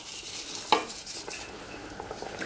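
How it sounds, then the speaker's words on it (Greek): A spoon stirs cuttlefish with parsley in a simmering pot, with soft scraping swishes and one sharp clink against the metal, over a faint bubbling hiss. "Ανακατεύουμε και συνεχίζουμε το βράσιμο με κλειστό καπάκι μέχρι να μαλακώσει"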